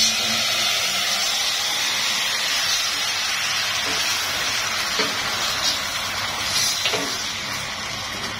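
A steady, loud sizzle and hiss of chicken and browned garlic frying in a hot pan, continuous and close with faint crackles.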